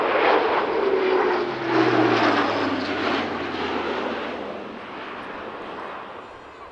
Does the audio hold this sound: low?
yes